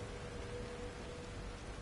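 Steady, soft rain falling in the horror game The Evil Within, a constant even wash of drops with no voices and no distinct events.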